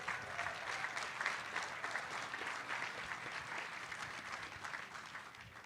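An audience applauds steadily as the Howard Hughes Holdings CEO is welcomed to the podium at a Texans team event, sustained clapping at moderate distance that holds level throughout.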